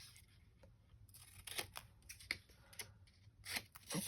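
Scissors trimming a paper border on a journal page, a series of close, crisp snips and paper rustles in short irregular bursts.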